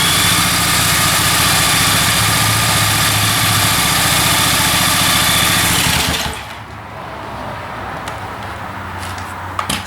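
A junkyard Honda XR80 motorcycle engine runs loud and steady at idle with a rough, pulsing low-end. After about six seconds it drops to a much quieter, thinner idle.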